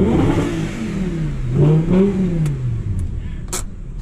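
A car engine revs up hard as the driver accelerates, the pitch climbing and falling through a loud, close surge with a brief clatter near the end.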